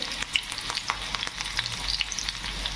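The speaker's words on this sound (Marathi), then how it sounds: "आता कढईमध्ये मी असं तेल टाकलेलं आहे, त्यामध्ये मिरची" Chilies frying in oil in a kadhai, with a continuous crackling sizzle full of small pops and spits, heard close and alone.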